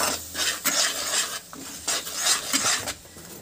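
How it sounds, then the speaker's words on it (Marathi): Ladoo mixture of sesame seeds, jaggery and cardamom powder stirred as it melts in a pan: rhythmic scraping and clinking of a spoon against metal, close and repeating every half second or so. "पूर्ण मेल्ट झाला पाहिजे, फिरवत राहायचं।"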